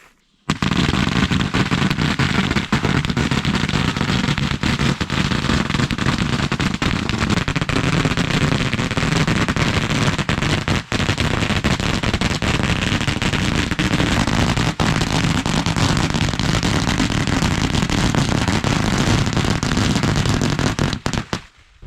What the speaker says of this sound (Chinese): 放挂鞭，放鞭炮